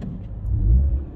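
Peugeot 208 GTI with a 1.6 litre turbo engine accelerating through the gears, a steady low engine rumble that swells toward the middle and then eases, heard close from inside the car with no talk.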